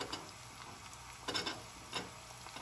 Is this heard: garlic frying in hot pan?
yes